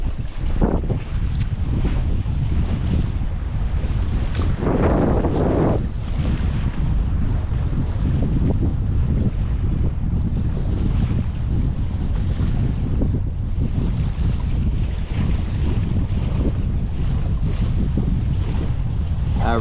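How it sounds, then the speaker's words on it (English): Strong wind blows across a harbor at Half Moon Bay, California, buffeting the microphone in a loud, constant roar with rushing gusts and rumbling thumps throughout. "it's pretty fucking windy"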